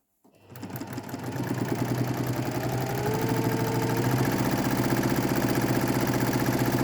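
A sewing machine stitches along the edge of a patchwork quilt block. After a brief silence it starts up and runs in a steady, fast, even mechanical whir, close and continuous, with no voices.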